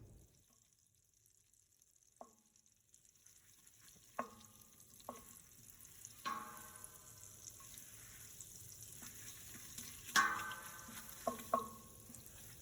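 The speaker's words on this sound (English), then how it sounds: "I'm going to add 6 tablespoons of butter. Let that melt down. I'm going to whisk it while it melts" Butter melting in a pot for a loaded baked potato soup, with a faint low sizzle and scattered sharp clinks of a whisk against the pot, quiet overall and no talking.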